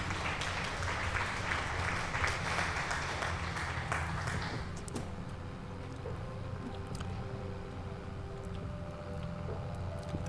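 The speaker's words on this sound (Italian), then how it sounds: "Applausi." A crowd applauds with dense, steady clapping for about five seconds, in Farming Simulator 22, then the clapping drops away, leaving a quieter murmuring room.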